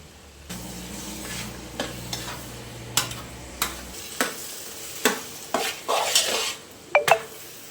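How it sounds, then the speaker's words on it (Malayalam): Onions, tomatoes and green chilies sautéing in a pan for a Kerala egg roast: continuous sizzle broken by a series of sharp spatula scrapes and clinks against the pan, close and fairly loud. "സവാളയും തക്കാളിയും പച്ചമുളകും എല്ലാം കൂടി നല്ലതുപോലെ വഴണ്ട് റെഡിയായി വന്നിട്ടുണ്ട്"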